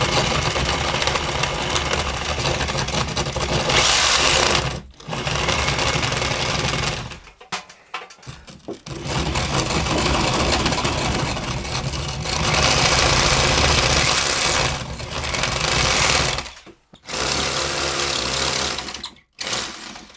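AEG 700-watt hammer drill boring holes for anchor bolts in a workshop: loud, sustained grinding-buzz bursts of several seconds each, separated by short pauses where the drill stops, then restarts.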